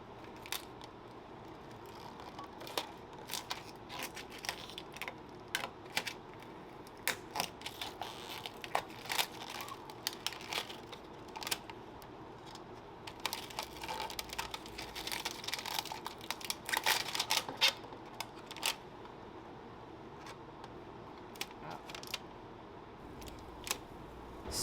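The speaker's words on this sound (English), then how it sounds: "You want to peel the tint off slowly." Tinted window film is peeled slowly off the glass of a car's back window, giving a long, steady series of close, crackling, tearing rips with scattered sharper snaps, no talk.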